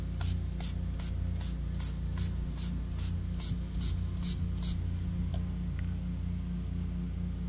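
An iron relic dug up in the woods gets sprayed off with a constant close rushing hiss, with a rapid series of light ticks or clicks over the first few seconds.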